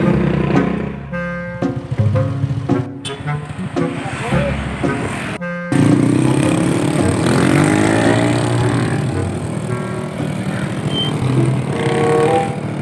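A motorcycle engine idles and revs close by, with a horn toot early on and people talking over the engine noise.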